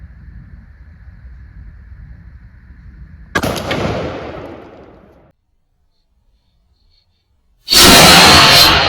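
A shotgun fires a Hornady Heavy Magnum coyote load through a turkey choke outdoors, one sharp loud blast that fades over about two seconds after a low background hum, followed by silence and then a burst of loud noise.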